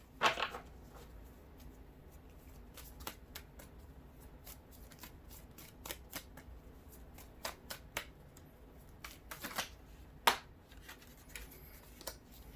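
Tarot cards being shuffled by hand, a run of crisp riffles and flicks in irregular bursts with one sharper snap near the end, close up and fairly quiet, with no talking.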